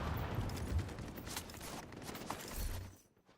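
A mortar strike fires in a video game, sounding as a burst of close, rapid explosive cracks and booms that rattle on for about three seconds before cutting off to near quiet.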